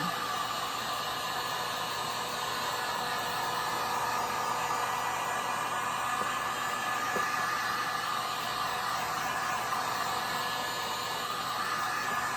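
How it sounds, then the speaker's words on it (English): A heat gun blows over resin on an abstract alcohol-ink art piece, giving a steady, even hairdryer-like whoosh that holds the same level throughout, with no voices over it. "Always be sure to keep the heat gun moving."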